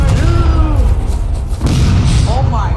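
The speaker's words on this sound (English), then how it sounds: "Enemy cannon ready to fire as well." Enemy cannon fire in a video game, a heavy booming blast that rolls under ongoing game sounds and a voice speaking.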